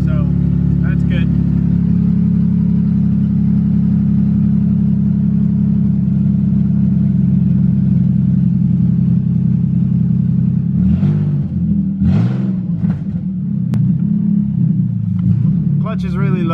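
Budget Nissan 350Z drift car idling with a loud, steady low rumble, the engine sound shifting toward the end amid several short bursts of noise and voices.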